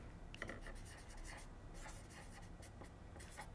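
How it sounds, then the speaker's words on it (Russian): Pen writing measurements onto paper during dress cutting and tacking, a series of quick close scratchy strokes and short pauses. "Значит, я пишу"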